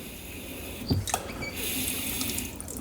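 Water runs briefly from a tap into a bowl for an egg roll sealing mixture, a short splashing pour followed by a steady faint trickle.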